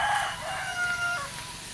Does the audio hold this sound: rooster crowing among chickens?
yes